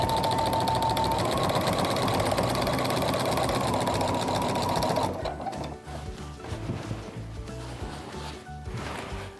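A beginner-level home sewing machine fitted with a walking foot stitches a quilt in a fast, steady whir, loud and close, then drops to softer rustling of fabric being smoothed and shifted.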